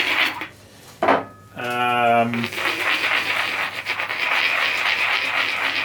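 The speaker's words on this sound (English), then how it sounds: "you can really grind them off like this" Glaze drips are ground off fired pottery, giving a steady, close scraping and grinding after a brief clink and a short spell of talk.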